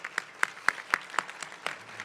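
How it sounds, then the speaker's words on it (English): Applause from a banquet audience at an installation dinner, a steady patter of many hands clapping that swells into sharp, regularly spaced peaks over about two seconds, with no voices over it. "let's give her a round of applause again."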